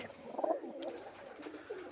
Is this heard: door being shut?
no